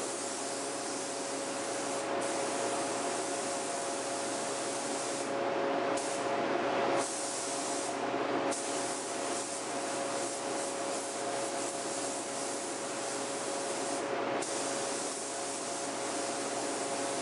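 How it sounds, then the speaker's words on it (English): A steady, continuous hiss of a spray gun applying satin finish to a guitar runs throughout, broken by a few brief pauses, with a constant low hum underneath. "get to spraying, so it's gonna be noisy"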